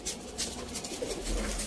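Sialkoti 35-wali pigeons coo in soft, low, rolling calls close by, repeating briefly over faint background noise.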